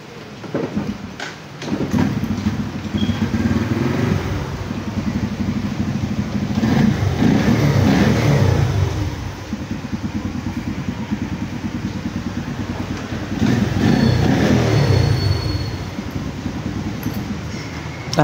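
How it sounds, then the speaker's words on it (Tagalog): A motorcycle engine runs close by with a rough, steady idle that swells into two long revs; the bike is running but its dashboard shows no display and the horn and push button are dead. "Umaandar po yung motor"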